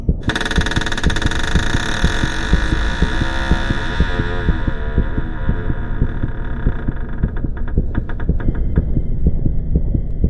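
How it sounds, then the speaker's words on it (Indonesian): A steady, deep rhythmic throbbing pulses continuously under a droning hum, loud and close, like a pounding heartbeat with no voices. "jantungku berdebar dengan sangat kencang hingga aku mulai merasa sakit"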